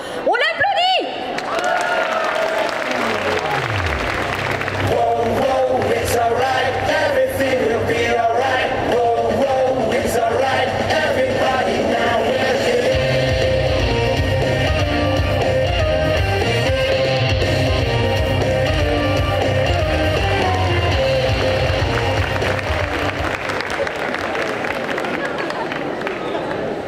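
Audience applause at a cosplay parade during Quimper Japan Manga Wave 2024, greeting a Miruko cosplayer: loud, sustained clapping and cheering from a crowd, mixed with music and voices, running steadily throughout.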